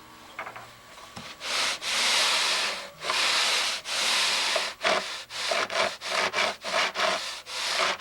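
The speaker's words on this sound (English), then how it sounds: "Just grind right into it. That's what that carbide is good for." A carbide bit grinding into metal during crash repair work, heard as a series of harsh rasping bursts, long strokes at first and then quicker, shorter ones with brief pauses between.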